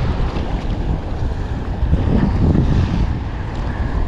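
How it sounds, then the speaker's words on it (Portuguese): Strong wind roars steadily at sea during kayak fishing, with heavy microphone buffeting and waves washing around the small, low-sided kayak. "O vento tá entrando novamente."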